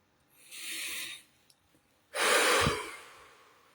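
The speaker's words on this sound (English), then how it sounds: "Deep breath in and deep breath out." A person takes one deep breath in and then one long breath out. Both breaths are close and airy, with a short pause between them, and no one talks.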